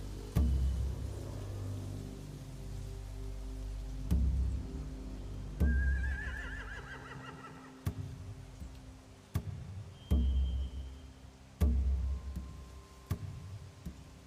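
Horses whinny in The Walking Dead video game, a few short neighs rising over a low ambient bed punctuated by regular sharp clicks and thuds, moderately close.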